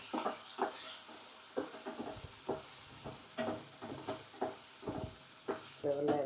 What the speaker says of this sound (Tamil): நம்ம பச்சை மிளகா, இஞ்சி ரெண்டுத்தையும் ஒன்றா போட்டு வதக்கிடலாம்